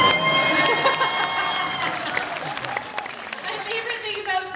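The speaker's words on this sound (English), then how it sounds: "making the audience clap for me" An audience claps through the opening of a Christmas-season concert, a steady mid-level ovation that gradually thins, with a voice heard over the clapping.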